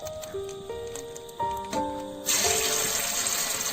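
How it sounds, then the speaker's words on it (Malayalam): Chicken pieces for chilli chicken dropped into hot oil, a loud steady sizzle bursting in about midway and continuing to the end, after a stretch of soft tonal background music. "ഓയിൽ ചൂടായിട്ട് നമ്മൾ മിക്സ് ചെയ്ത ശേഷം ചിക്കൻ അതിലിടാൻ പോവാണ്"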